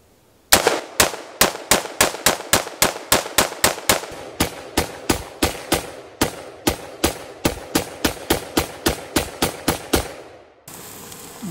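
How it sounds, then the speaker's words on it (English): Rapid gunfire rings out outdoors at a New Year's shooting contest: about two dozen sharp, loud shots in a fairly even rhythm, each with a short echoing tail, then the firing stops abruptly near the end. "with shooting a little guns at it"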